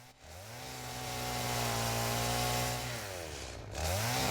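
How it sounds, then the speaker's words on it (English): Chainsaw revving and cutting in the game Satisfactory, a sustained whining motor drone that holds steady, dips briefly, then rises again, loud and close with no talk. "Let's get the chainsaw out."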